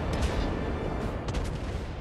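Warship main guns firing in WoWs Blitz, a naval battle game, a heavy booming barrage with deep rumbling blasts and rolling reverberation filling the whole stretch at steady loudness.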